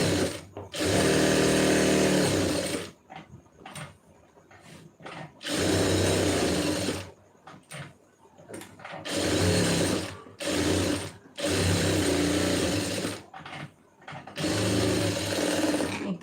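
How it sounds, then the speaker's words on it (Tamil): An electric sewing machine stitches a blouse lining with a quarter-inch seam allowance, running in four loud, close bursts of rapid whirring separated by short quiet pauses. "1/4 இன்ச்சு தள்ளி தையல் போட்டுருங்க."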